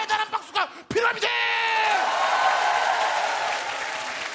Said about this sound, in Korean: 여러분 대단한 박수가 필요합니다